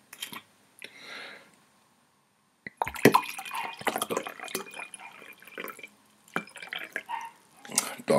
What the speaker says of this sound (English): I'm gonna pour some more wine here.